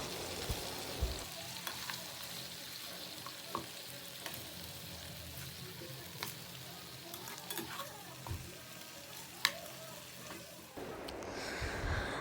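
Tandoori chicken fries gently in a pan over a low flame, giving a quiet continuous sizzle broken by occasional scrapes and clinks of turning, with no voices.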